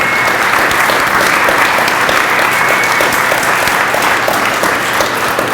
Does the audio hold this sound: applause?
yes